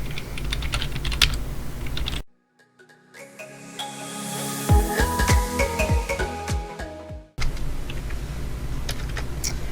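Fast typing on a computer keyboard while writing a Roblox Studio script, a dense run of crisp key clicks and clacks, close and fairly loud, with short quieter gaps and a break in the middle.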